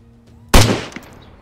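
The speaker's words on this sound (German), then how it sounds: "Warte, ich versuche mal einen Schuss." A single loud gunshot fired in the survival video game DayZ, a sharp close blast with a short decaying tail, standing alone after near silence.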